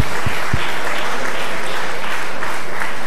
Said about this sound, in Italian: quindi va dato un merito, se mi consentite, con un applauso